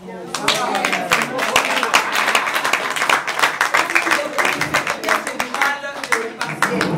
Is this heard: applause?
yes